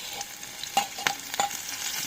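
Garlic, chillies and curry leaves fry in hot oil for an Egg 65 garnish, giving a steady close sizzle broken by a few sharp stirring clinks.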